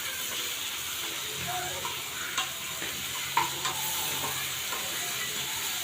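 Ampalaya (bitter gourd) sautéing in a pan for ginisang ampalaya gives a steady, moderate sizzle and hiss. Soft stirring scrapes and a few light clinks break into the sizzle, with no talking.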